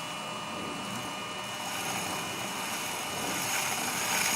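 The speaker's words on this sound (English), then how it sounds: "And we turn on the power from those 6 wire coils. It makes like a little track on which the magnets can spin, a magnetic track." Magnets spin on a three-phase magnetic track powered by six wire coils, producing a steady whirring hum with a high whine that swells slightly louder toward the end, close and continuous without talk.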